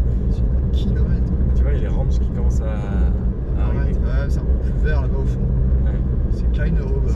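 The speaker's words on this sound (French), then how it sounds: "Quand vous croisez une voiture en Namibie" A car crossing paths on a gravel desert road in Namibia, its engine rumble and tyre noise swelling close by under steady talk from people inside a vehicle.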